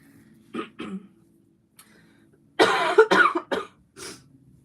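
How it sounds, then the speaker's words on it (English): Several harsh coughs, two short ones first, then a louder burst of rapid coughing and a final cough, close by with quiet between. "And I have a cough still"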